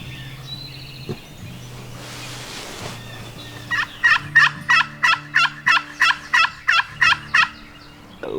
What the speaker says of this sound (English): There's a bunch of turkeys up there.